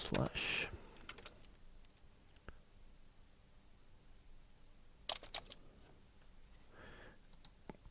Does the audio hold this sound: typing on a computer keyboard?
yes